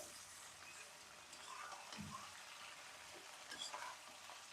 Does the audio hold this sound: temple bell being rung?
no